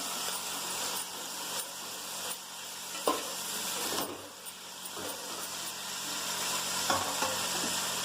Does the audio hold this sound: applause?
no